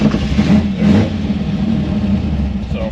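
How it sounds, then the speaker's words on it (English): A 1964 Chevy II gasser's engine runs with a steady low rumble, the revs rising briefly near the start and again around one second, close and loud with no talking. "Just turn the key and it should just fire up. Give it a little gas, maybe."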